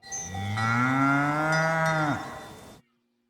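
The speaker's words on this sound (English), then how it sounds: "Cow." A cow gives a single long, loud moo that swells and then falls away, heard alone and close with no other sounds.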